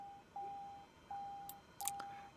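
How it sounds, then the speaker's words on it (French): A cockpit warning in Microsoft Flight Simulator 2020 repeats as a thin, steady electronic beep in three evenly spaced tones, quiet and alone, with a few faint clicks from switches near the end. "Enlever cette alarme qui détruit les oreilles"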